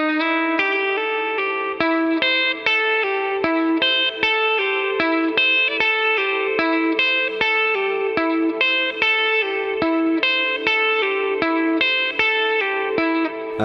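An electric guitar plays a solo lick slowly and cleanly, a steady run of plucked notes with light chorus and reverb, each attack clearly separated.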